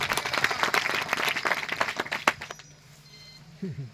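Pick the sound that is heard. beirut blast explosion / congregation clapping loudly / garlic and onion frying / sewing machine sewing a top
congregation clapping loudly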